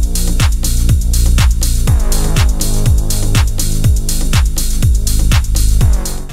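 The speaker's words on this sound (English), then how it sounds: "A big, full, harmonic sounding bass that sounds like this." A big, full, harmonic progressive house bass, driving steady pulsing notes locked to a kick beat, loud and dense with a continuous low rumble, no voice.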